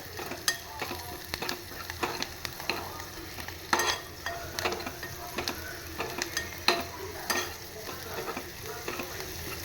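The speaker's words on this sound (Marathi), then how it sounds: "मस्तपैकी आपला हा कांदा छानपैकी फ्राय करून घेऊया." Onion frying in a pan, a steady sizzle close by with repeated sharp clicks and scrapes as it is stirred and turned, no one speaking.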